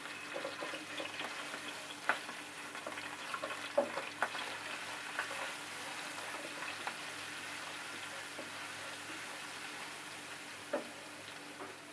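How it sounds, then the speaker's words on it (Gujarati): Ginger-garlic paste fries over low heat in a pan while being stirred, a soft continuous sizzle under scattered light clicks and scrapes of a spoon, fairly quiet and even throughout. "પછી આપણે ગેસ સ્લો કરીને આદુ લસણનો પેસ્ટ નાખી દઈશું. થોડું હલાવી લઈશું."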